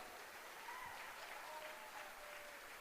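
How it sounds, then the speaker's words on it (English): Conference audience in Las Vegas applauding: a faint, even patter of many hands clapping, heard from a distance and continuing without pause across the short stretch. "give yourself a big round of applause for making that choice"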